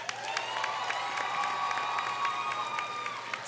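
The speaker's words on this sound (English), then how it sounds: "Let's give them a final round of applause." A high school graduation audience claps and cheers for the seniors, a steady, dense wash of applause with whoops and shouts throughout.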